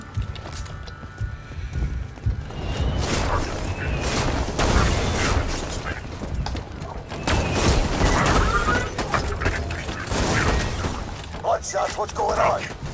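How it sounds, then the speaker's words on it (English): Gunfire in the video game Borderlands 2, with dense bursts and booms from a busy firefight running continuously at a loud level, mixed with other game effects and chatter. "I'm hearing more gunfire than usual."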